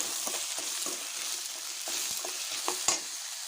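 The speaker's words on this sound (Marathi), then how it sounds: "त्याचा मिक्स करून घेऊया" Spoon scraping and stirring coriander powder and other spices in a frying pan, repeated short stirring strokes over a steady soft sizzle, with no voices.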